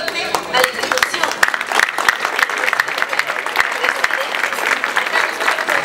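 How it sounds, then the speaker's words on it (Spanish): Loud, close applause at a silver anniversary celebration for a community institution, sharp individual claps standing out over the dense crowd clapping, with some voices mixed in. "un aplauso muy fuerte a la institución"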